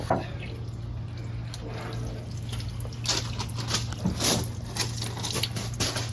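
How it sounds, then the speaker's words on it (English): Coolant drips and trickles from the bottom radiator hose of a 1940 Mercedes 320 barn find, irregular close wet patters over a low steady hum, with no talking. "Still leaking a little bit out of that bottom hose."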